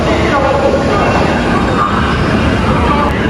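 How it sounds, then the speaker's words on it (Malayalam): A train runs past at a railway station in China, a loud, steady rumble of rolling wagons that fills the whole stretch without letup. "ഇവിടെ വേറൊരു ട്രെയിൻ പോകുന്നുണ്ട്."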